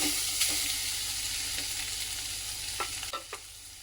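Grated coconut sautéing in ghee with cashews in a pan for modak filling, a continuous close sizzle with a few light stirring taps near the end, no voices.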